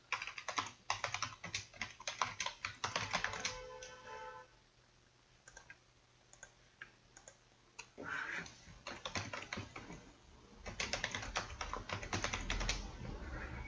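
Steady typing on a computer keyboard clatters in fast irregular bursts while an email is filled in for an online court e-filing, with a brief quieter pause midway before the key clicks resume, close and fairly soft, no talking.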